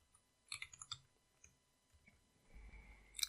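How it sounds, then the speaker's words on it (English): A handful of quiet, quick clicks from a computer keyboard, typed in a short cluster followed by a few scattered single taps, close and faint, with no talking. "So I'll type that in caps."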